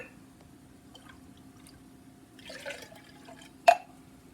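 Water poured into a spice mix for Louisiana Cajun chicken sausage gumbo, quiet liquid splashing and gurgling followed by one sharp drip or clink near the end, close and faint.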